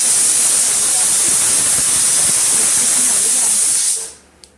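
A pressure cooker holding chickpeas lets off steam in a loud, continuous close-up hiss that cuts off abruptly near the end, followed by a faint clink.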